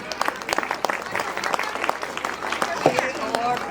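An audience at a school award presentation for teachers claps steadily and fairly close, with a voice speaking over the applause.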